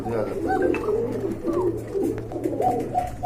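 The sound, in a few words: pigeons cooing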